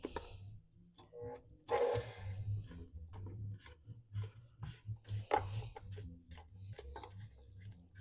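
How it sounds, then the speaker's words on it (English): A spatula scrapes toffee chocolate chip cookie dough around a mixing bowl, giving soft, intermittent rubbing and rasping strokes at close range over a low background hum. "let's give it a little scrape"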